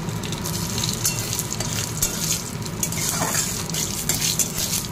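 Panch phoron, bay leaf and dried chilli splutter in hot oil, a loud steady crackling sizzle close by with faint stirring and no talk.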